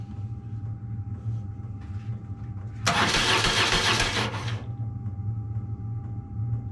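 An adventure motorbike engine cranks over after the ignition is switched on, a loud burst of starter churning for about two seconds over a low steady hum, with no one speaking.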